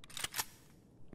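A gun is reloaded in Escape From Tarkov, with a few quick mechanical clicks and clacks close up in a short burst, then a final small clack after a brief pause.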